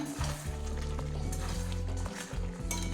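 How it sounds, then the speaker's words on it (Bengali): Raw jackfruit and boiled potato frying and being stirred in a pan, a steady loud sizzle broken by repeated scraping strokes of the spatula, close up with no talking. "এবারে এঁচোড়টা এর সাথে একটু ভেজে নেব এঁচোড় আর আলুটা একটু কষে নেব"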